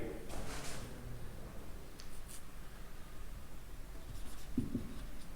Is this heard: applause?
no